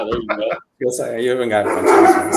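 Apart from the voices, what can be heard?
dog barking in the background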